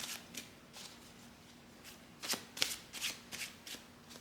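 Tarot cards are shuffled by hand in a run of crisp riffles and flicks that grow louder and denser toward the end, close and quiet, with no voices.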